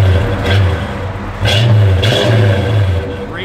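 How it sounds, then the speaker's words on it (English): A 1966 Chevrolet Malibu's engine revs up loudly and close by, with a couple of throttle blips that rise and settle back over a rumbling idle, no talk over it. "Give it a little rev, Mike."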